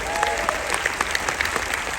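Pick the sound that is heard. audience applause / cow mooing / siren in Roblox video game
audience applause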